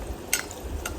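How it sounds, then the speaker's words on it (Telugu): Onions fry in a pan over a charcoal stove while a spoon stirs them, giving a low steady sizzle with two brief sharp scrape clicks from the utensil, close up and without talking. "చూసారా ఎంత బాగా వేగుతుందో"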